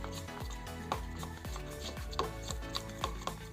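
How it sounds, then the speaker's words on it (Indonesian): A spoon slowly stirs a suspension of flour and water in a container, scraping in quick, regular close-up strokes about twice a second, with no talking. "Kemudian lakukan pengadukan dengan sendok secara perlahan."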